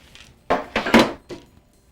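Pizza pockets set down one after another on a small parchment-lined sheet pan: three or four soft, close thuds and taps in quick succession, with short quiet gaps between them.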